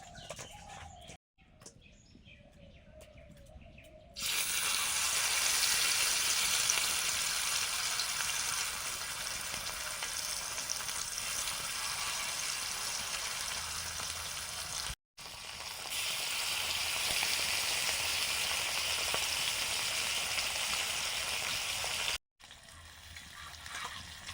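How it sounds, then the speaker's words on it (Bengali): Whole featherback fish fry in mustard oil on a griddle, giving a loud, bright, unbroken sizzle that cuts out briefly twice, with quieter background before it starts. "সর্ষের তেল তাওয়াতে ভাজলে উল্টাতে সুবিধা হয় ভালো ভাজাও হয় বেঁকে যায় না মাছ"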